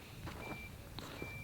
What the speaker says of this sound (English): The beeping is from the energizer.